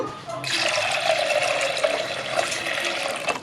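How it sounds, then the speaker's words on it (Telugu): A steady stream of water pours and splashes into a vessel of lentils for a few seconds, fairly loud and close, with no talking. "పప్పు మునిగేంత వరకు నీళ్ళు పోసుకుందాము"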